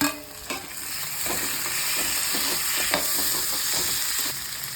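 Chopped tomato hits frying onions in a pan for chicken gravy, with a steady loud sizzle and scattered scraping stirs throughout, close and without talk.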